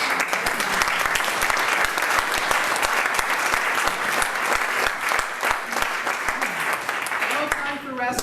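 A crowd in a community hall, the Lions Hall at Lake Ainslie, Cape Breton, breaks into loud, close applause that carries on throughout, with voices and cheering mixed into the clapping.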